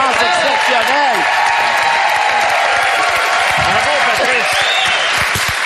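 Studio audience at a Quebec television show bursting into loud, sustained applause with cheers and whoops, a dense wall of clapping throughout.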